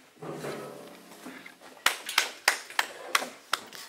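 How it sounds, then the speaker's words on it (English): A single pair of hands claps slowly and unevenly, a handful of sharp claps following a brief murmur of voices. "there's only one person applauding."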